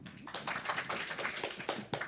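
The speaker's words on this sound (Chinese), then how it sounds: "那我们就鼓掌欢迎叶主任哈" An audience at a medical society conference session applauds to welcome a chest medicine department head, a brief patter of claps rising and falling in uneven bursts.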